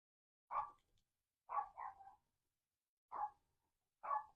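Small dogs bark outside, faint and distant, in a few short separated bursts with silence between them.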